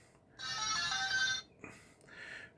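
A Lego NXT computer brick plays its startup sound, a short, quiet electronic chime of bright beeping tones in two brief phrases with near silence around them.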